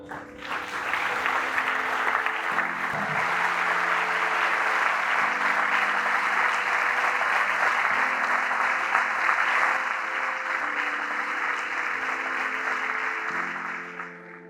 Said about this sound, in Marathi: आपण सर्वांनी त्याचे टाळ्या वाजून स्वागत करावे